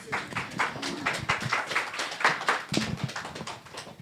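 A congregation at a Sunday church service claps in sustained, dense applause, many hands close and continuous for several seconds without a break.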